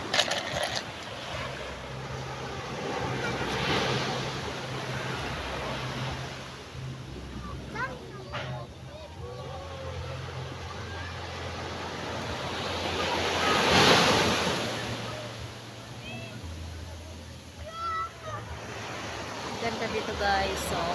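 Small sea waves wash onto a beach, making a continuous surf hiss that swells and fades in slow surges, with wind buffeting the microphone and people talking intermittently nearby.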